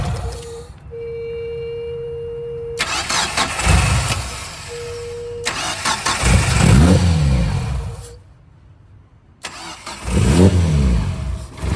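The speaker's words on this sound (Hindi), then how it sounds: "गाड़ी स्टार्ट करो।" A Toyota KE20 car engine being started repeatedly, with several cranking attempts that catch and rev briefly before cutting out, close and loud, with a steady tone and gaps of near silence between tries.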